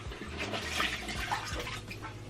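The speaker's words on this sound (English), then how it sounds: "I'll definitely go back in and rinse my washcloth again" Running water pours steadily from a bathroom faucet while a washcloth is rinsed under it during a nightly skincare routine, a continuous close splashing hiss with no talking.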